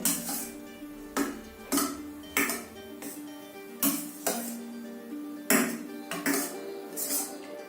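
A metal spoon stirs dal with cumin powder in a metal pot, knocking and scraping against the rim in repeated clinks about every half second to second, close and clear.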